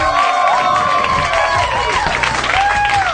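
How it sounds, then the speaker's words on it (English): Audience at a live comedy show bursting into sustained applause, with clapping, cheering and whoops filling the room loudly and evenly from start to finish. "How about a round of applause for Greg Proops, everyone?"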